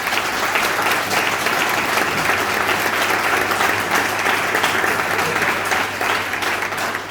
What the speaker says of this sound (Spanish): Yo pido un fuerte aplauso para la que ha sido